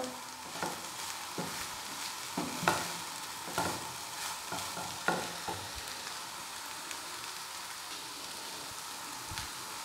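Filling for stuffed chicken onion rings cooks lightly in a pan, a soft continuous sizzle with a string of spoon knocks and scrapes from stirring, moderately close, with no talk.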